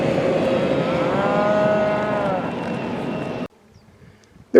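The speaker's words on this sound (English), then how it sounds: "You're one scraggly looking cow," A scraggly cow moos in a long, drawn-out low call that fills most of the moment, heard from inside or beside a 2020 Toyota 4Runner TRD on a rural drive, then cuts to near silence.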